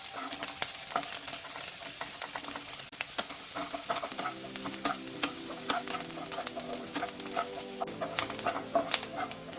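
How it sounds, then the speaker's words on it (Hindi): Chopped onions fry on a medium flame for bhindi do pyaza, giving a steady soft sizzle with scattered crackles and occasional spoon stirring, close and fairly quiet. "अभी हम अनियन को मीडियम फ्लेम में हल्का सा गोल्डन होने तक फ्राई करेंगे"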